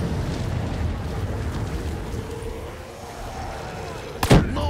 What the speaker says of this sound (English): Explosion will equal those I saw in Stalingrad.